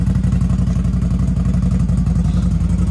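A modified Defender Max 6x6 idles and revs with a rough, throbbing, motorcycle-like engine note, close and steady, with a rapid pulsing rhythm and no voices.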